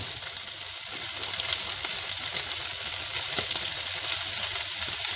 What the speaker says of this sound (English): Now once the kway teow is in the wok, put in some garlic.